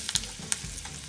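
Mustard-seed tempering with urad dal, asafoetida, turmeric and curry leaves sizzling in hot oil for a snake gourd salad; a soft steady frying hiss with a few sharp crackles and pops, close up, no talking.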